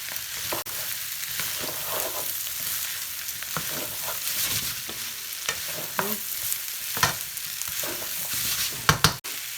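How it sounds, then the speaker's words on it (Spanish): Onion with green and red bell peppers frying in a pan while being stirred: a steady close sizzle with repeated scraping and clacking strokes of a utensil, growing sharper near the end, with no talking. "cebolla, el chile morrón verde y el chile morrón rojo. Y lo vamos a revolver."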